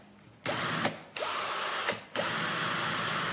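A cheap cordless hand drill whirs close and steadily, stopping and restarting twice as it switches between high and low speed, the pitch of its motor changing with each start.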